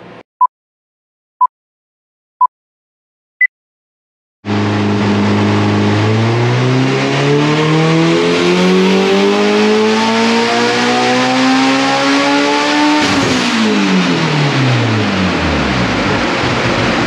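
Mitsubishi Evo X on a dyno, loud engine rising steadily through a full-throttle pull to a high-rpm peak, then dropping off abruptly; four short timing beeps come before the run starts.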